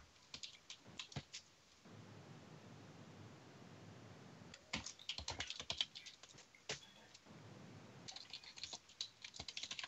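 Rapid bursts of computer keyboard typing, close and clear, come in clusters with short pauses between them and end in a dense run of keystrokes.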